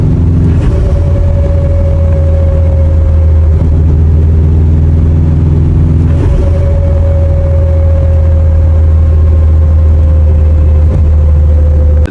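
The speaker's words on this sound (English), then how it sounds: "We are now removing this wheel bearing hub because it is making a whining noise when you drive" Rear wheel bearing whining on a Subaru Impreza WRX while driving: a loud, steady in-cabin road rumble with a continuous tonal whine riding over it, rising slightly in places.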